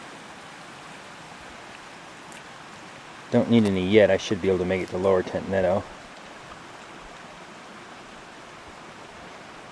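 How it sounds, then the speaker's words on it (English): A small stream flows across the Copper Creek Trail with a constant soft rushing wash, while a hiker talks briefly over it partway through. "A little stream right there that crosses the Copper Creek Trail."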